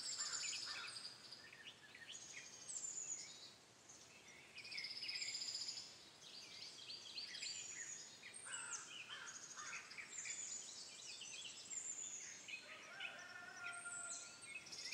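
Many birds chirp and whistle in overlapping calls, with a soft steady insect buzz underneath, fairly distant and calm.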